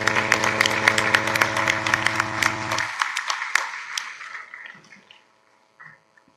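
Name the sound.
hearty round of applause for departing chief guest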